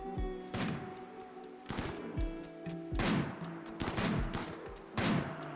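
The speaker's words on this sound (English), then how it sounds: "Yeah, just shoot them like crazy people." Colonists firing guns in the video game RimWorld: about five sharp, close gunshots ring out at irregular intervals, each with a brief ringing tail, no speech.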